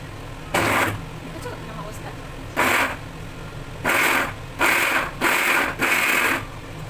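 Grated coconut is prepared in an electric mixer grinder, which roars in six short pulsed bursts of about half a second each, separated by quieter gaps filled with faint background noise.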